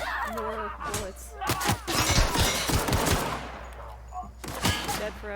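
Gunfire in the video game The Outer Worlds, a cluster of quick sharp shots bunched in the middle with a few more near the end, mixed with other game sounds and a brief voice at the start.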